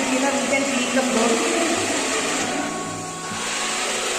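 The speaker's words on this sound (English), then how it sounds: "Vacuum cleaner is started." A vacuum cleaner built into a smart mopping and cleaning robot runs with a steady, loud broadband whir and a faint tonal hum, continuous throughout with a slight dip midway.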